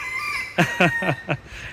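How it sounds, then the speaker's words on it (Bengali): A wild junglefowl (bon morog) in a safari park enclosure gives a crowing burst of four sharp, clucking syllables in quick succession, close and loud over a steady background hum. "এটা হচ্ছে বন মোরগ।"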